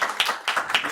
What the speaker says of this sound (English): give a round of applause for our speakers